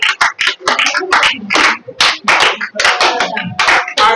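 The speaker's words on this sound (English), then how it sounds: "Let's clap for them." A group of people claps for a winning school team at a science and math quiz competition, a lively run of sharp, irregular hand claps that carries on for the full few seconds.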